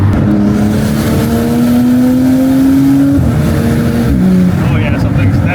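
A BMW fitted with an SSR downpipe pulls hard at full throttle, its engine note rising steadily then dipping at a shift before climbing again, loud and continuous under people talking in the cabin.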